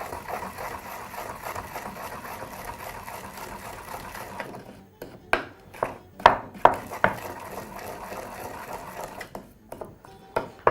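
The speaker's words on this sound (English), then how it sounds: "beautiful mince from your garlic." Knife mincing garlic with a sprinkle of salt on a cutting board: a run of sharp, close chopping taps with uneven rhythm over a soft background hum.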